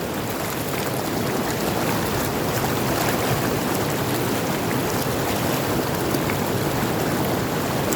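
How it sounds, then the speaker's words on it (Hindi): Fast-flowing river water rushing through the Gaula barrage on the Gaula river near Kathgodam, Uttarakhand, a loud continuous broadband roar close by, steady throughout with no talk. "बहुत तेज बहे, बहुत तेज पानी चल रहा है दोस्तों।"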